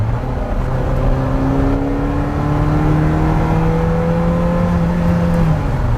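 A Ferrari 348 accelerates under throttle, its engine note climbing in steady, loud harmonic sweeps across a continuous run with no one talking.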